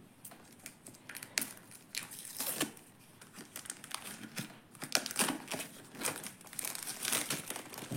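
Plastic packaging from a Temu haul crinkles and rustles close by as a parcel is opened, a run of irregular crackling bursts with a few sharper tearing snaps, with no one talking.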